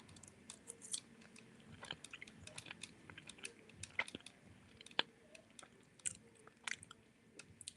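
Close, wet chewing of potato and rice, with irregular soft crunches and clicks of the mouth picked up intimately by a microphone, quiet and with no talking.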